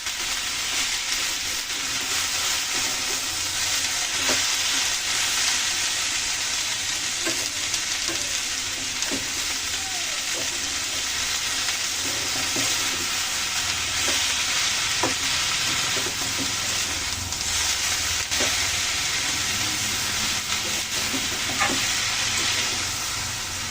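Shredded cabbage frying on low heat with ginger paste, a continuous close sizzle with occasional stirring scrapes and taps of a utensil in the pan, no talking.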